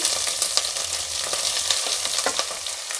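Mustard seeds, curry leaves, slit green chillies and onion sizzling in hot oil, a dense close crackle and hiss with faint stirring, no talk.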